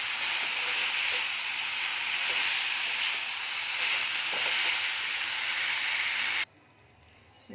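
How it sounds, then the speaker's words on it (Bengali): Boiled vegetable stalks stir-fry in a hot pan, making a loud, continuous close-up sizzle and hiss that stops abruptly near the end. "কষিয়ে নেব একসঙ্গে।"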